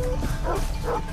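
A dog in the video game Far Cry 3 gives a couple of short, muffled barks over a low, steady game background.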